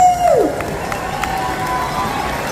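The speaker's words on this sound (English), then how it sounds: "let's give her a big round of applause while we're waiting" Steady crowd noise from a pageant audience at a powwow gathering, cheering and clapping continuously and fairly loud after a brief voice fades out at the start.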